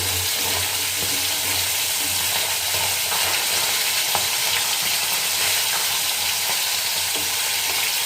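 Fish frying in a pan: a steady, close, dense sizzle that runs unbroken throughout, with faint scraping and stirring noises underneath and no talking.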